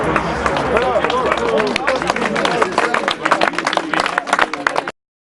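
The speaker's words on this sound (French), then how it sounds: "On applaudit bien fort, vas-y Gérard." Crowd applauding in a town-centre square in Cambrai, dense steady clapping mixed with chatter and murmuring voices, loud and close, running continuously before stopping abruptly.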